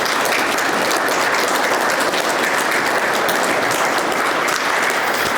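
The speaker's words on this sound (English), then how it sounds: "So give yourselves a round of applause." Loud, dense applause from a large crowd fills a university alumni awards dinner, a continuous wash of clapping with no gaps or voices.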